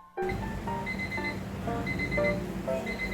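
A kitchen timer for boiling pasta goes off, a steady chiming electronic alarm that starts suddenly and rings on for about three seconds, fairly loud and close, with no talking.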